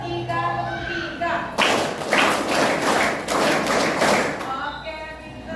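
A classroom of students claps a rhythmic counting pattern in loud, dense bursts of hand claps for about three seconds, with children's voices heard before and after the clapping.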